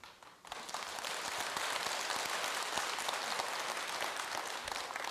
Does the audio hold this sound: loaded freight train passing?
no